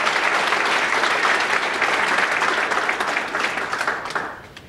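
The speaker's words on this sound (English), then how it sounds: "Let's give her a round of applause." A city hall audience at a 2023 State of the City address claps warmly for a retiring human resources director, a dense steady round that thins and fades toward the end.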